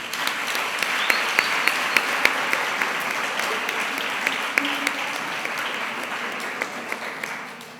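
Steady applause from an audience at a school graduation ceremony, sustained hand clapping filling the hall at even volume for several seconds with a few sharper claps standing out.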